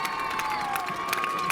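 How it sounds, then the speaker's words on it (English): A high school homecoming crowd at Marysville cheers and applauds for the court, a steady wash of clapping and shouts with scattered whoops, moderately loud and continuous throughout. "Please, one more round of applause for Bianca Satrib and Nick Wilson."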